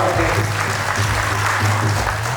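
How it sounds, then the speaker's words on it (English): Wedding guests clap and applaud together, a steady dense patter of hands filling the room, loud and continuous throughout with faint voices mixed underneath. "I give this guy an applause"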